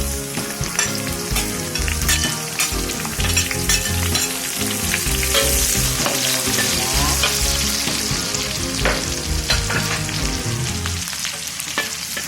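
Garlic and shallots fry in a pan for chicken semur, a loud, continuous close sizzle with crackling pops and occasional stirring scrapes, no talking.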